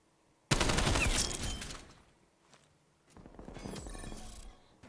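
Automatic fire from a 74U rifle in Call of Duty: Cold War, a loud sustained burst that fades out, then after a short pause a second rattling burst, close and without any talk.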